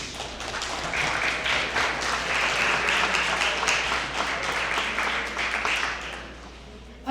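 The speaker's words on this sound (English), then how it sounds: "You can now clap." Audience applause at a primary candidate forum in Imperial County, sustained, dense clapping that holds steady for several seconds before tapering off near the end.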